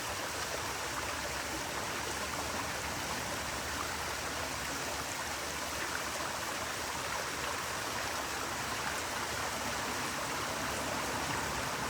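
Outdoor stream of flowing water makes a steady, even rushing wash with no breaks, moderately quiet and unbroken by voices.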